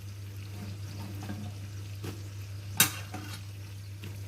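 Onions and capsicum stir-fry with garlic in a pan, a low steady sizzle under a constant hum, broken by scraping stirs and one sharp clack of a utensil against the pan.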